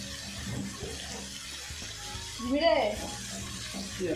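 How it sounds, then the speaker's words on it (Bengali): Water runs from a household kitchen tap in a steady, moderate gush, with cooking clatter nearby and a brief voice-like sound partway through. "ধর জল অন করে দেবো।"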